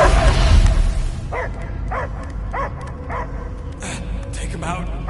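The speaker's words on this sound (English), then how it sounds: "I hear only barking." A dog in the video game Guardians of the Galaxy on PS5 gives a run of repeated barks and yips at a moderate distance over a dense background of game ambience and rumble.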